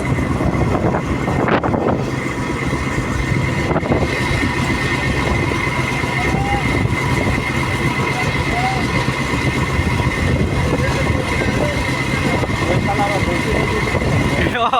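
A passenger launch from Barishal runs its engine while towing a boat tied behind it on the river, giving a steady heavy drone with wind buffeting the microphone throughout.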